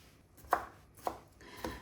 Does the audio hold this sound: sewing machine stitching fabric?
no